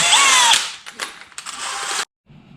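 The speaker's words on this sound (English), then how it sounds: "Switch over to my step bit." A step drill bit bores into a Kawasaki Voyager Vaquero motorcycle fairing, the drill whining loud and close with short stops and restarts before cutting off abruptly into near silence.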